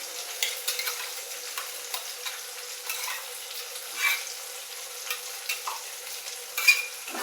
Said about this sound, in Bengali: এবার এই মশলাগুলো কষাতে থাকবো।